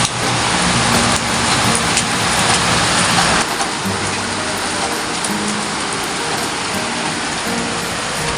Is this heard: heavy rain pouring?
yes